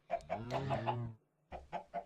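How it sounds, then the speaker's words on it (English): Chickens in a video game give soft, short clucks, first a quick run of several then three more after a brief pause, faint and close with no talking. "I don't want too many chickens, because then they'll definitely die"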